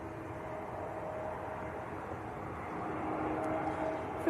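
EasyJet Airbus A320neo, arriving from Alicante at Manchester Airport, gives a steady broadband jet roar that swells gradually over several seconds with no voices over it.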